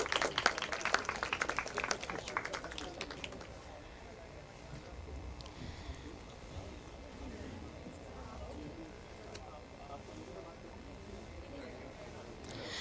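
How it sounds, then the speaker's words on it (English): Audience applause for guests invited onto the stage at a literature and art festival in Bhopal, a burst of clapping in the opening three seconds that quickly fades into quiet room murmur. "A huge round of applause, ladies and gentlemen."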